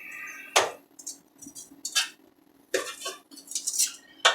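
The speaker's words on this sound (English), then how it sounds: "now it's time to turn our pork chops over" Pork chops are turned over in an air fryer basket, heard as a series of sharp metallic clinks and scrapes of tongs against the basket, irregular and close, with no talking.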